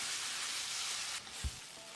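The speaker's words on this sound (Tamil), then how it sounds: "தக்காளியை மசிகிற அளவுக்கு வதக்கிடலாம்" Steady, broad sizzling of tomatoes sautéing in a frying pan for mutton curry, with a brief soft thud of stirring near the end.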